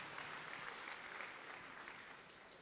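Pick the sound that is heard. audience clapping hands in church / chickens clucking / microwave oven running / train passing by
audience clapping hands in church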